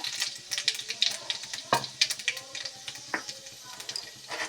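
Cumin seeds and bay leaf crackling in refined and mustard oil in a frying pan, rapid close pops and sputters over a soft sizzle, with a voice faintly underneath.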